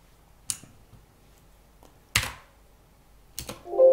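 A few separate clicks and taps on a computer keyboard, sharp and close with quiet gaps between them, while entering a formula in an Excel spreadsheet.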